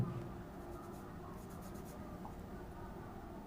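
Pen or pencil scratching on paper while working a class 10 maths HCF problem, soft continuous writing strokes close by and quiet, with no speech over it.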